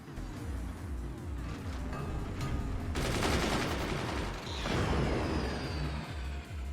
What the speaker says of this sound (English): Gunner's taking out the mortar fire.